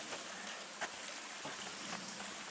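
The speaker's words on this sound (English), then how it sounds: "And this will be Eddington Creek" Eddington Creek on the North Country Trail flows softly along a backpacking route, a faint, steady watery trickle and hiss with small splashy ticks, heard alone at a distance.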